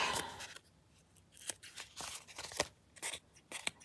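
Scissors snip through paper or tape during a watercolor linen-tape craft project, a quick, irregular series of close, crisp cuts and rustles with no speech.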